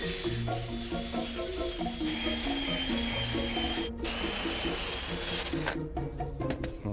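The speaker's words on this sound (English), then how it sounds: "So now we'll shape this with the sander." A power sander shapes a piece of pine into a horn form, giving a loud, steady motorized whine with grinding texture and a brief dropout partway through.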